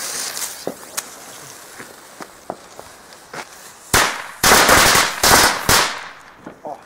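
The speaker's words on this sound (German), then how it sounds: "Kleine Knallkette." A small string of firecrackers goes off: scattered sharp single pops at first, then a loud rapid crackling burst of bangs in several dense clusters, close by and outdoors.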